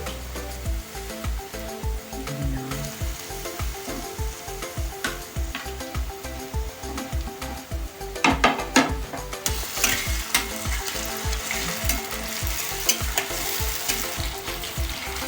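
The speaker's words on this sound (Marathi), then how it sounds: "टॅमॅटो चांगला सॉफ्ट होऊन द्यायचा. भाजत राहायचं." Green chillies and chopped tomato fry in a pan for mutton kheema, a steady close sizzle with rhythmic stirring scrapes throughout and a brighter, louder burst of frying partway through; no one speaks.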